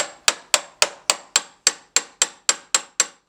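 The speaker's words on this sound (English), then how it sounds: "And the easiest and simplest way is with a gentle persuader, otherwise known as the hammer." A hammer taps the side of a jammed locking bar in twelve sharp, evenly spaced metallic strikes, each ringing briefly before the next, close and loud with nothing else heard.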